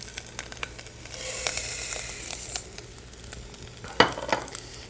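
Rice sautés with spices in a hot pan, a soft continuous sizzle with intermittent scraping stirs and a sharp utensil knock near the end, close and without speech.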